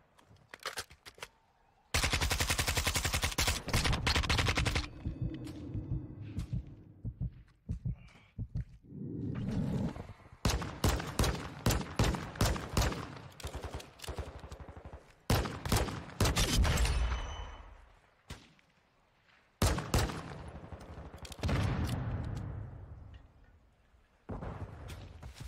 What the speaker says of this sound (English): Me and this guy are just out here shooting it out.